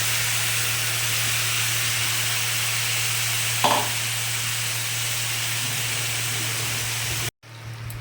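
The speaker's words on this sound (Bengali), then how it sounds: "ভালো করে তেলের সাথে তেঁতুলটিকে নাড়তে থাকবো" Tamarind frying in hot oil for a sweet and sour pickle gives an even, close hissing sizzle, with a brief scrape of stirring midway and a sudden break near the end before the sizzle resumes.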